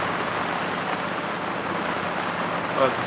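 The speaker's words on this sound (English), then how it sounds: "Wow, what a rain shower." A rain shower pours down on a sailboat at sea in calm, windless conditions, a dense, steady hiss of falling water that stays constant throughout the clip.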